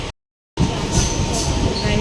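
A passenger train runs toward Panvel with a steady rumble and rattling wheels, briefly cut to silence near the start before the continuous ride noise resumes.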